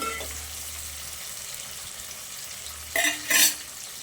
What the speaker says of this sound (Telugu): ఆనియన్ అయితే రెడ్గా ఫ్రై అయిపోవాలా.